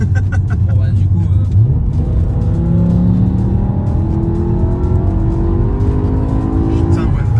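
The V10 engine of a BMW M5 E60 revs hard and accelerates, its loud, steady roar climbing in pitch through successive gears, heard close from inside the car.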